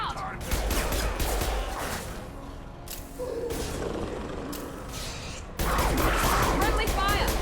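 Sustained Mass Effect combat gunfire, rattling volleys and booms running throughout with a brief lull, then a louder burst at the end, with a voice talking over it.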